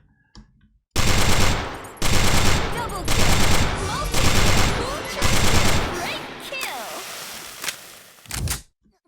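Gunfire from a gun in the video game Sudden Attack rips out in five long, loud automatic bursts separated by brief pauses, followed by a shorter final burst.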